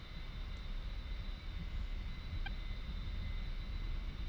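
An A-10A's twin jet engines roar steadily at takeoff power on the runway in a flight simulator game, a dense, unbroken drone with a faint high whine throughout.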